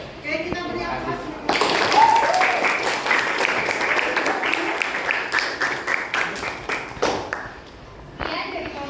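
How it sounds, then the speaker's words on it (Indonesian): Audience applause at a school group presentation, steady clapping from a crowd that swells and carries on for several seconds before fading, with voices around it. "Oke, kita beri aplaus."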